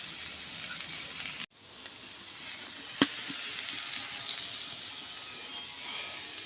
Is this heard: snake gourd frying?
yes